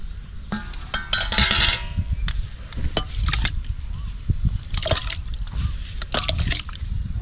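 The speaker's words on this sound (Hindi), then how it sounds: "अब चलते हैं भगोने में डाल देते हैं चावल को।" Washed rice poured into a cooking pot of warm water, heard as irregular close sloshing splashes and soft clattering bursts spread over several seconds, with no talk.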